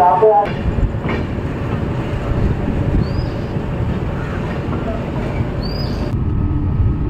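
The Garib Rath Express rolls out of Malda Town before dawn, a continuous heavy rumble of the carriages with a couple of faint high squeals over it.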